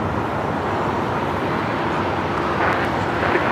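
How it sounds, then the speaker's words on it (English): A steady, loud broadband roar from an Alaska Airlines Boeing 737-800 jet in Star Wars livery on the move at the airport, constant throughout with no voices. "Alaska Airlines flight 1352 in the Star Wars livery, 737-800."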